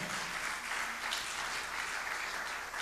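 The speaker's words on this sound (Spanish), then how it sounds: "denle un aplauso al Señor." A church congregation claps for the Lord during a Spanish-language service, a steady even wash of many hands held at one level for the whole stretch, without voices rising above it.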